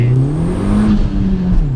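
A VW Polo 6N2 with a swapped 1.8 turbo engine making about 220 bhp accelerates hard, its engine note droning loud and close and climbing steadily in pitch through the short burst.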